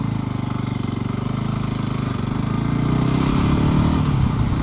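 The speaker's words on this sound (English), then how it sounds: "just to show how low geared this bike is, we're going to try and set off in second" Voge 300 Rally motorcycle pulling away from a standstill in second gear, its engine note steady and loud with a low, lugging pulse that climbs slightly in pitch toward the end.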